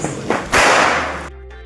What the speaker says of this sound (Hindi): फिर हमने रात को की इन पटाखों की टेस्टिंग।